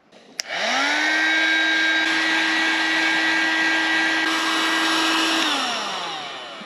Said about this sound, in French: Je vais venir en fait le faire chauffer avec le décapeur thermique pour du coup réussir à lui redonner la forme